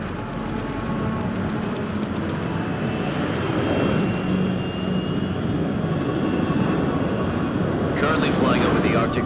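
Aircraft in the game Metal Gear Solid Delta: Snake Eater cruising at 30,000 feet over the Arctic Ocean, a steady, loud engine drone filling the whole stretch with faint crackling noise near the end.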